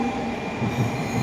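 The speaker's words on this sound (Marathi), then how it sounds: "ही आमची ट्रेन आली आता नोझोमी 48" A Shinkansen Nozomi bullet train pulls into a station with a steady, close rumble and a faint squeal of wheels, with no one talking.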